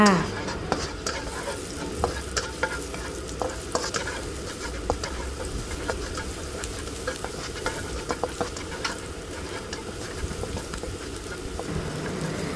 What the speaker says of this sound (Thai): พอน้ำมันเริ่มร้อนเราก็จะเจียวกระเทียมให้หอมก่อนค่ะ